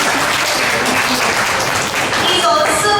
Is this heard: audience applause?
yes